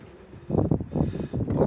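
Racing pigeons of rare colours, including double-factor indigos, cooing in a loft, a few soft, low rounded coos in quick succession close by, with faint rustling beneath.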